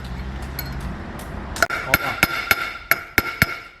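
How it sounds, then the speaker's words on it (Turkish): Seven sharp metallic hammer strikes land in a steady rhythm, driving a car wheel bearing into place, ringing against metal up close after a moment of low hum. "Ercan Usta ritimli çakıyor"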